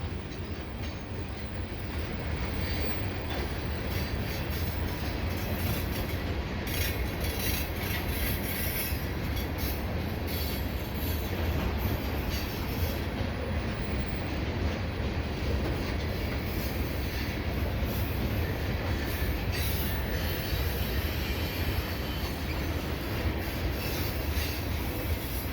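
A CPKC unit tanker train hauled by CP and KCS locomotives rolls past, slowing steadily with a continuous heavy rumble, wheel clatter and faint squeals, heard alone at moderate distance.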